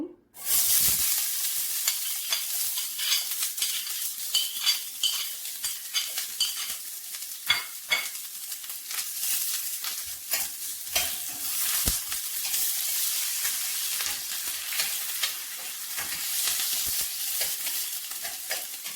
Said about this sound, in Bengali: তেল গরম হয়ে গিয়েছে পেঁয়াজ রসুন কুচি দিয়ে দেব